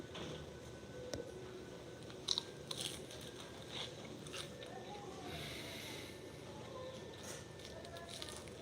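Someone bites into and chews salted tempura at an unagi grilling restaurant in Shimanto, Kochi. Close, soft crunches and moist chewing repeat irregularly over quiet room noise.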